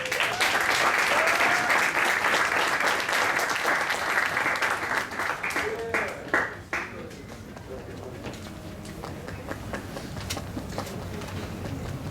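Audience applause at a military cadet awards ceremony, a steady wash of many hands clapping that fades after about six seconds into quieter room noise, with a few voices murmuring underneath.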